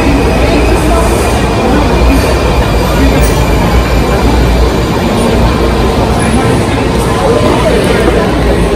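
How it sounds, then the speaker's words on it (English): A train rumbles steadily past close by, with a constant broadband roar and faint squealing, and indistinct voices murmur underneath. "the lights blink, you know, the train coming"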